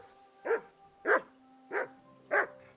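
Four evenly spaced, close barks from a dog in Kingdom Come: Deliverance 2, each short and bright, with quiet gaps between them and no audible whimper.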